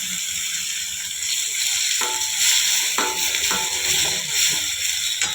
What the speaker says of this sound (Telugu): ఇందులోకి ఆనియన్ పేస్ట్ సైడ్కి పచ్చిమిర్చి పేస్ట్ ఇవి వేగినాక టమాటా పేస్ట్ వేస్తుంది